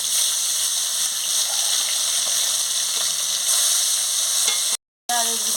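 Kalbasu fish sizzles loudly in hot oil in a kadai over a village wood stove, a steady dense frying hiss that cuts out briefly before resuming with bubbling.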